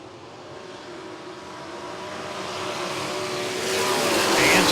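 Sprint cars in an ASCS heat race at Salina Speedway roar onto the dirt oval as the green flag drops, a dense, steadily building engine howl that swells louder toward the end.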